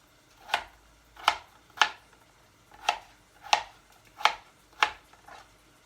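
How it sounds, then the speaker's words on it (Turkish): Seven sharp knife chops cutting potatoes into cubes on a cutting board, spaced irregularly about half a second to a second apart, close and clear with no talking. "Şimdi patateslerimi de küp küp doğrayayım içine."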